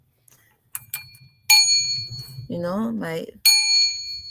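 Small bells ring out in a few bright, sustained chimes, with a voice briefly humming or intoning between strikes and faint handling sounds at the start.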